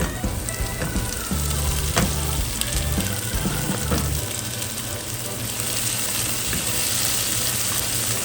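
Chicken sautéed with onion and garlic in a pan, a loud steady sizzle with bursts of stirring and scraping early on, and a faint voice murmuring underneath.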